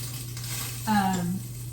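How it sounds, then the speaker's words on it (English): Steaks sear in a buttered skillet, giving off a steady, moderate sizzle. A brief metallic ring sounds partway through. "I'm not going to touch them. I'm going to let them sear at least a good"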